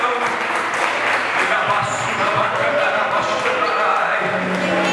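A church congregation applauds in praise at a Portuguese-language worship service, a dense, steady wash of many hands clapping at close range for several seconds, with voices mixed in underneath.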